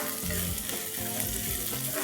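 Long-sliced onion frying in a pan while it is stirred, a steady hiss of sizzling oil broken by repeated scraping strokes of the spoon at a regular pace, close up with no talking.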